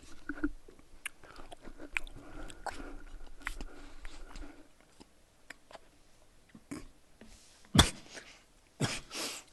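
Close-up biting and chewing of a chocolate treat made with condensed milk and cocoa, soft wet munching with scattered crunchy bites and a couple of sharper, louder crunches near the end.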